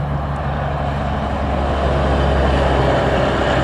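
A heavy container truck rumbles past nearby, a loud, steady low engine drone with broadband road noise and no voices.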